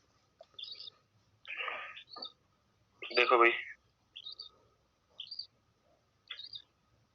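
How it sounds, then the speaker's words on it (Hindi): Birds chirp near a rooftop: short, bright calls come at intervals, with someone speaking briefly between them against a quiet background. "मैं छत पे बैठा हूँ, चिड़िया तो सुनाई देगी यार,"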